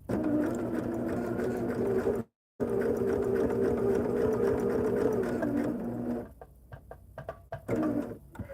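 A sewing machine stitches hexie quilt pieces together in a loud, steady hum that breaks briefly, resumes, and then trails off into a few short stops and starts.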